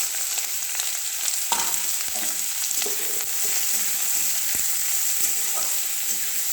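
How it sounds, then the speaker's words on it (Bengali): Chopped onions frying in hot oil, a steady bright sizzle and crackle close by, with occasional stirring scrapes and spoon knocks against the pan. "দেখো তেল গরম হয়ে গেছে, পেঁয়াজগুলো দিচ্ছি"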